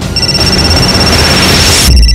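An electronic phone ringtone sounds loudly and steadily for about two seconds, a sustained bright tone over a busy, noisy background.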